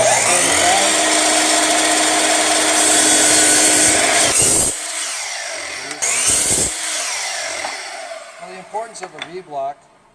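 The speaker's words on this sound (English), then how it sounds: "All I usually do is just take the miter saw" A miter saw cuts scrap wood with a loud whining roar that runs several seconds, cuts off, then bursts briefly again before spinning down, followed by a few softer knocks and rubs.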